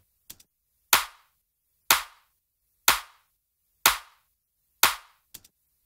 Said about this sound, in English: So here's a clap clip which is fairly static.